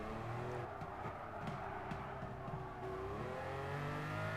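A Lamborghini Countach engine drones and revs through gear changes in Gran Turismo Sport during a midship car challenge, a continuous game engine sound rising and falling with no talk over it.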